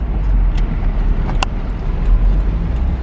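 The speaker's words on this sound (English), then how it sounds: "Now Andrew's taking it for a quick little spin" A Toyota MR2 SW20 fitted with BC Racing coilovers pulls away with a steady low engine drone and road roar, a couple of brief clicks and knocks on top.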